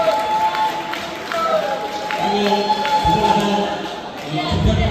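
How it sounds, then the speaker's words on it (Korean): Applause and cheering from a crowd at a Korean alumni association golf tournament gathering, honoring the association president; clapping swells under a voice over a PA, with cheers and noise building toward the end. "우리 김수장회장님 뜨거운 박수 한번 보내주세요"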